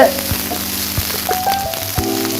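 Potato and crab sautéing in a pan for a potato crab fry, a steady close sizzle with periodic stirring scrapes and soft clinks recurring roughly every second, no talking.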